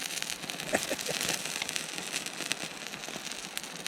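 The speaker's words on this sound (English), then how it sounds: "So, like I say, I've got my little campfire." Small campfire at a wild camping spot in Hastings with burgers cooking over it, giving scattered sharp pops and crackles over a steady soft hiss, close and continuous with no talking.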